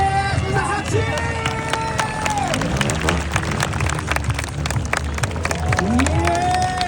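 A crowd cheering and clapping at a motorcycle trial demonstration at an indoor motorcycle show, mixed with engine revving that swells and falls, a loud busy din with continuous scattered claps throughout.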